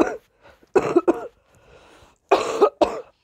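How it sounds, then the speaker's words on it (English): Several harsh coughs come in two bursts, close and loud, separated by a short quiet pause with faint breathing. "Sorry, guys, I'm about to cough."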